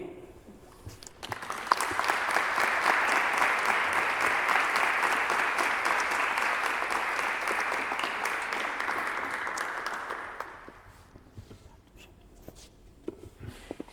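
An audience at a public gathering breaks into steady, dense applause that swells quickly, holds for about nine seconds and then fades to scattered claps.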